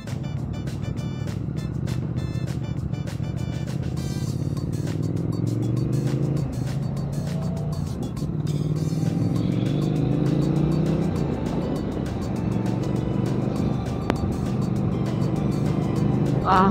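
Triumph Speed Twin motorcycle being ridden on the road, a steady engine drone with shifting pitch as it accelerates and cruises, with wind rush throughout and no talking.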